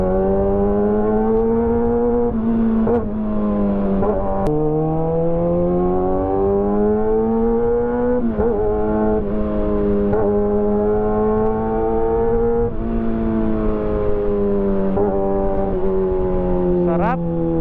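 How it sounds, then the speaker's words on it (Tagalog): Heavy traffic of many cars on EDSA rumbles continuously and loudly, with engines droning and shifting pitch as vehicles approach and pass, under a voice talking throughout. "Sabi ko na, traffic ang EDSA eh. Ayan o, daming sasakyan approaching."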